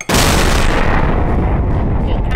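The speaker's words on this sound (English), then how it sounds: "Dermo nuclear bomb." A thermonuclear bomb detonates in the Melon Playground video game, a loud sustained roaring blast that hits at once and rumbles for over two seconds, filling the whole sound with heavy, crackling low-end noise.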